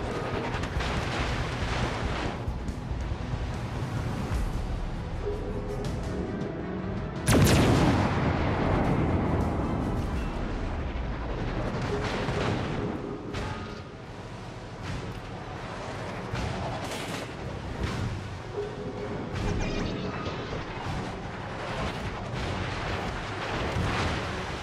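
Naval gunfire from warships in World of Warships: Legends, a dense, continuous barrage of heavy booms and rumbling blasts with a big close explosion about a third of the way in, heard alone without talk.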